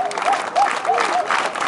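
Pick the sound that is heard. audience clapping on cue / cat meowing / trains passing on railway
audience clapping on cue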